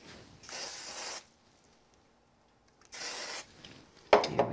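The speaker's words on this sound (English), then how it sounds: "this is just the Vintage Photo Distress Oxide. There we go. Looks good. Give it a quick spray" Quick spray bursts of Vintage Photo Distress Oxide ink misted over a card background, two soft hissing sprays separated by a pause, followed by a brief sharper rustle at the end.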